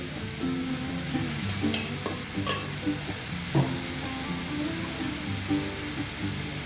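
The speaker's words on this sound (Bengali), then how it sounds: "চিনিটা দিয়ে একটু ভাজবো ক্যারামেলাইজড হবে আর কি জিনিসটা চিনি ভাজার একটা গন্ধ আসবে" Sugar frying and caramelizing in a pan gives a steady close sizzle, with intermittent stirring clinks and scrapes and occasional sharper taps over the hiss.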